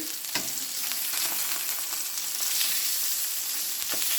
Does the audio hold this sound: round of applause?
no